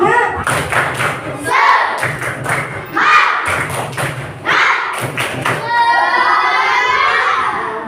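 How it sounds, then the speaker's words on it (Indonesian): Classroom children perform a rhythmic clapping chant together during an ice-breaking activity, loud group voices shouting in time with bursts of claps and thuds, ending in a sustained cheer. "Kita akan melakukan ice breaking dengan tepuk semangat."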